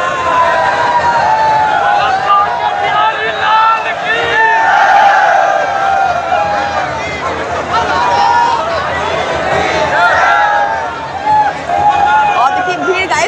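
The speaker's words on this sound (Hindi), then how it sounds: "और देखिए भीड़ गाइस बढ़ती ही जा रही है" A growing festival crowd at Lathmar Holi in Nandgaon keeps up a loud, churning hubbub of overlapping voices and shouts, swelling and dipping in waves throughout.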